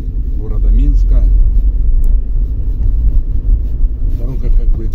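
Heavy low rumble of a car driving through Minsk city streets, close and steady from inside the vehicle, with someone speaking over the road noise.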